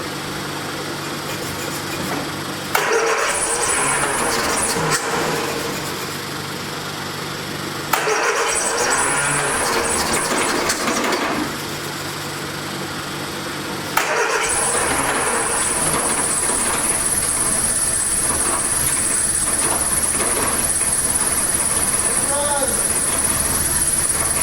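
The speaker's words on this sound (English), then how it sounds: "I think we should just let it idle. But it's running though." A 1979 Triumph Spitfire engine cranks and catches in bursts, then settles into a steady, loud idle with a high whine over a rough rumble, while people talk nearby.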